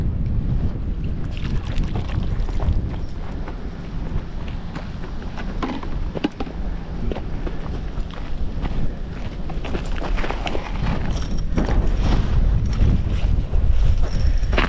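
Wind blowing steadily over open water during a yabbying outing on a boat, a loud rushing buffet with rumbling gusts and some splashing underneath, continuous throughout.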